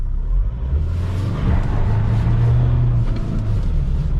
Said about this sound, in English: We've got a good skid happening there.